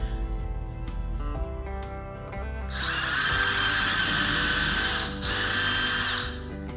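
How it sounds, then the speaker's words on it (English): A small power drill with a tiny bit whirs at a high pitch in two bursts with a short pause between, after some quieter clicking and handling noises. "I'm going to drill some tiny holes in the bottom"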